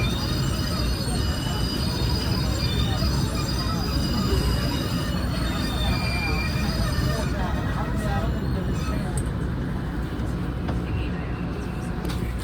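Boston subway train running on rails toward Harvard Avenue, heard from inside the car: a loud continuous rumble of wheels with high, drawn-out squealing, while a recorded voice announces over the din.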